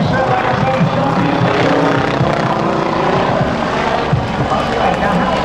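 A helicopter at an airshow roars steadily and loudly with a dense, continuous rotor and engine drone that never lets up, heard fairly close.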